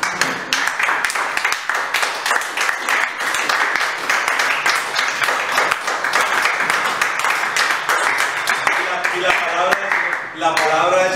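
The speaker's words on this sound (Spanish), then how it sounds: "Denle un aplauso al Señor" A church congregation claps and applauds steadily throughout, dense and lively, with voices calling out beneath it and a voice rising near the end.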